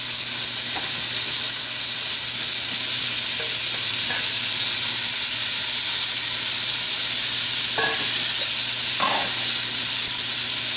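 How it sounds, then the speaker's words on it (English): Chopped leeks hit a hot pan and fry with a loud, constant hiss and sizzle that holds steady for about ten seconds, with a few faint utensil taps beneath it and no talking. "So the pan is hot, so we'll add the leeks."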